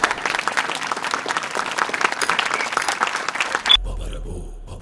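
Loud, dense clapping from an audience welcomes Arjun's drama troupe, sustained for several seconds before cutting off abruptly into quiet low hum.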